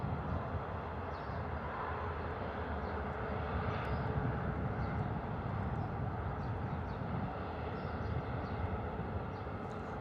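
A KLM airliner taking off at Bristol Airport, heard as a steady, broad jet engine roar that stays loud and even throughout, with no talk.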